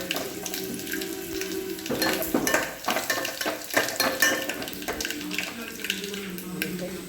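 Ingredients for rasam frying in a pan give a continuous hiss, broken by repeated scraping and clattering stirs of a spoon against the metal, loud and close throughout.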